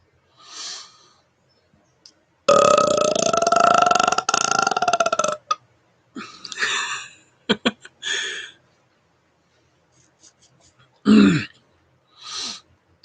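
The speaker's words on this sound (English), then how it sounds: "I love when I can get a low air burp to just rattle on like that." Deep, rattling burps from a man, one long loud belch near the middle running several seconds, with shorter grunts and a low burp later, all alone in a quiet room.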